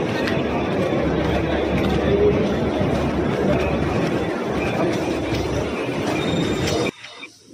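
A suburban local train runs on rails with a continuous loud rumble and some wheel squeal, with passengers' voices in the background, until the sound cuts off near the end.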